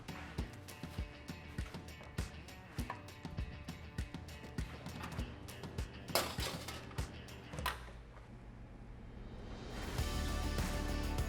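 A sheet pan of pork tenderloin goes into a 375-degree oven: a run of light metallic clinks and clatters, then a steady, soft rushing noise near the end.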